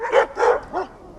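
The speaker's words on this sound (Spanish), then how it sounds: "se presentó un fornido perro que tiraba de una cadena y le disputó su derecho" A burly dog pulling on a chain barks three times in a quick sequence, the last bark softer and more whining, fairly close and alone.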